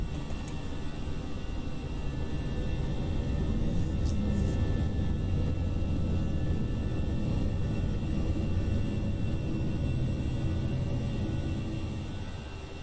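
An Airbus A319 airliner of Austrian flying from Berlin to Vienna climbs after takeoff, its engines a loud, steady roar and rumble heard from inside, unbroken throughout with no talking.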